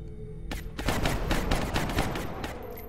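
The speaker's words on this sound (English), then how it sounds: "You can't run when machine gun fire chops off your legs." Rapid, repeated machine gun bursts in the strategy game XCOM: Long War, a dense loud rattle of overlapping shots lasting several seconds, with no talking.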